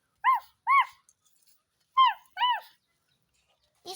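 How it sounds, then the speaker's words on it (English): A small dog gives four short, high whiny yips in two pairs, close and clear with quiet gaps between them. "I have a little doggy."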